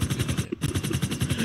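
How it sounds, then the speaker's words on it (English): Rapid, evenly spaced gunfire bursts from a shotgun during a FiveM police patrol game, loud and continuous for the whole moment with one brief gap. "Shotgun."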